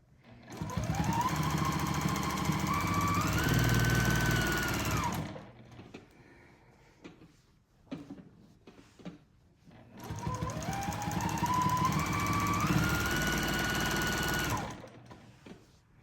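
A sewing machine stitching free motion quilting runs in two loud, rapid bursts of about five seconds each, separated by a quiet pause with light handling clicks.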